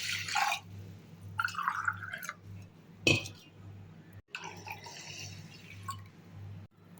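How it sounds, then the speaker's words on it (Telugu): Water from a glass poured onto washed rice in a pot, heard as several short splashing bursts separated by pauses, with faint clinks of kitchenware nearby. "వాష్ చేసుకున్న బియ్యంలోకి ఒక గ్లాస్ బియ్యానికి 2 గ్లాసుల నీళ్ళు"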